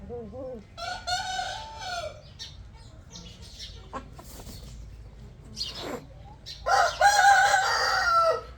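A rooster crows loudly nearby, followed by scattered clucks and bird calls, then a second strong crow toward the end.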